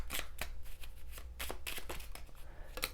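Tarot cards being shuffled during a money and career reading, heard as quick, close, crisp riffling bursts of cards in an uneven rhythm, with no voices over them.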